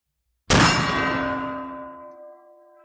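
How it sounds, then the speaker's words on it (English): A 20-gauge Davide Pedersoli Howdah Hunter black powder shotgun pistol fires once at a steel gong, giving a sharp loud clang that rings on with a long, slowly fading metallic tone. "see if I can accurately get a shot off, offhand duelist style, I guess you would say, at the steel gong"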